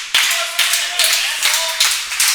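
A wrestling crowd at the Wrestle Shop claps in a steady rallying rhythm, about five sharp, evenly spaced group claps over a continuous wash of crowd noise.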